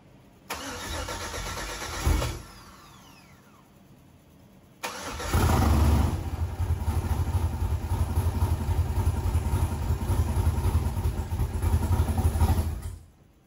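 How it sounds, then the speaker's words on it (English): Built 6.0 LS V8 in a Chevrolet Silverado cranks briefly, stalls, then cranks again and fires up into a loud, steady rumbling idle that runs for several seconds before cutting off. "then we're going to get it fired up"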